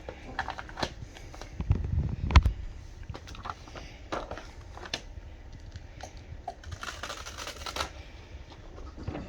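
Sublimation transfer paper peels off a heat-pressed white hardboard wainscoting panel, a faint crackling, tearing rustle with small sticking pops and scattered clicks close by.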